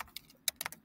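Several quick keystrokes tapped on a computer keyboard while entering an API key header, a short cluster of clicks that is close, clear and unaccompanied by any voice.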